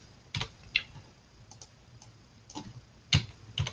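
Irregular light clicks of typing on a computer keyboard with a weakening battery, soft scattered keystrokes in small bursts over a quiet background hiss, no talk.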